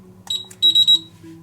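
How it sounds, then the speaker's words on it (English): Three short, bright electronic beeps in quick succession after a single earlier chirp from a LA GARD 700 Series safe lock keypad accepting a code, close and clear over a low background hum. "You've got the triple green flash and beep"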